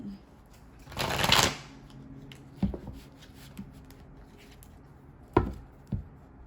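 Tarot cards are shuffled in a single crisp riffling burst up close, then several separate cards are slapped down or pulled in soft, sparse taps.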